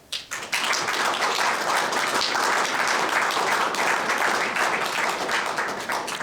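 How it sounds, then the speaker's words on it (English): Sustained audience applause at a history lecture, dense and steady clapping from a large crowd filling the whole stretch after a brief quieter start, fairly loud with no talking over it. "Don't clap yet, I haven't started."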